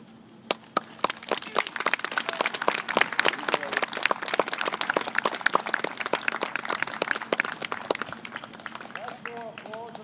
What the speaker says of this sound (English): That's more applause than I received on that day.